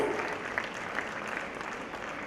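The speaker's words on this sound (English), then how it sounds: "A big round of applause for him." Audience at the Big Cine Expo 2016 inauguration applauding the chief guest, a soft, even wash of distant clapping sustained throughout with no talk.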